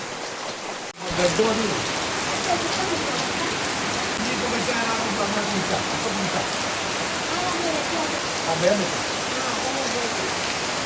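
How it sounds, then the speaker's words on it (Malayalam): Heavy morning rain pours down steadily, a dense, loud wash that begins abruptly after a brief quiet opening and continues unbroken, with scattered drops pattering close by. "ഇന്ന് നല്ല മഴ തന്നെയുണ്ട് രാവിലെ തന്നെ നല്ല മഴ തുടങ്ങി"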